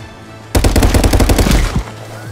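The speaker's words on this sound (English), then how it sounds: "I shot you with a shotgun point blank!" Gunfire from a shotgun in the VR shooter Contractors comes as a loud, close, rapid string of shots lasting just over a second before the sound drops back to quiet.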